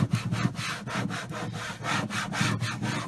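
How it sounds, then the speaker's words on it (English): A squeegee rubs a decal down onto a case in rapid back-and-forth strokes, giving a close, scratchy, rhythmic scraping that carries on steadily without any talking. "and then I'm going to take my squeegee again"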